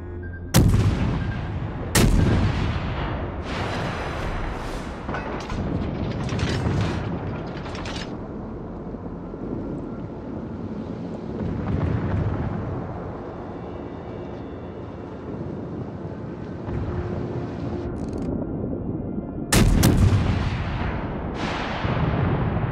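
Naval artillery from warships in World of Warships: Legends, heavy booming gun salvos at the start and again near the end, with a rumbling low background of battle noise and mechanisms in between, no talk.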